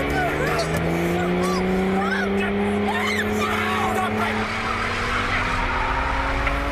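A car in GTA skids across the road, its engine whining steadily at a rising pitch with squealing tyres and chirping tones, loud and continuous for several seconds, with faint voices underneath.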